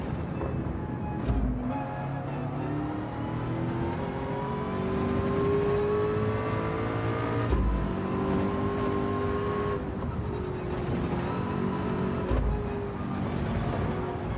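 A Group 3 race car engine in Gran Turismo 7, a loud close whine climbing steadily through the revs, with sharp breaks for upshifts every few seconds before climbing again, sustained and alone.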